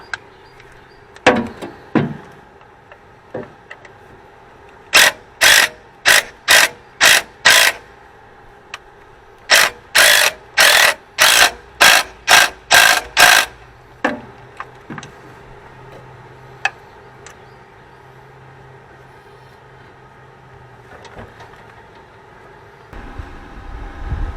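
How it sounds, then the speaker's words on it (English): Ratchet wrench tightening the pivot bolt under a car's hood, giving two bursts of rapid, evenly spaced clicks, about six then eight strokes, close and loud with quiet gaps and a few softer ticks. "now let's tighten the pivot bolt back up."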